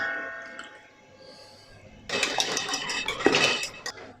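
Boiled potatoes for duck parmentier dropped into a rondeau pot and crushed with cream over the gas, a soft quiet start giving way to busy metallic clinks, scrapes and knocks of utensil against pot.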